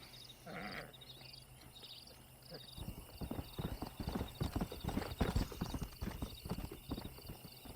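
Horse hooves clip-clopping at a steady trot in the Red Dead Redemption video game, close and rhythmic, with a whinny near the start and a constant high ambient tone behind.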